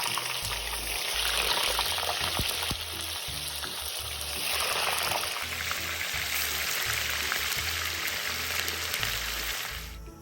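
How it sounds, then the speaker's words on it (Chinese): Dried tofu deep-frying in hot oil over high heat, a steady loud sizzle and crackle that runs unbroken throughout with no voices. "油热至高温后，再将豆腐干放入，高火油炸"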